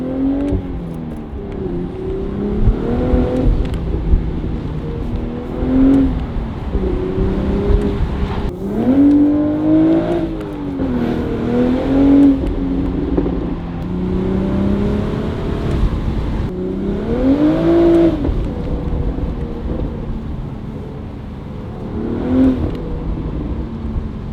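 A manual BMW Z4 fitted with a Valvetronic Designs exhaust and OEM downpipes, heard from inside as the engine revs up and down through repeated gear changes, loud and throaty with rising and falling pitch.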